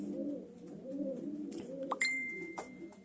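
Racing pigeons coo in a loft, a steady run of soft, low, rolling coos close by, with a few brief higher chirps and a thin whistle-like tone near the end; no one speaks.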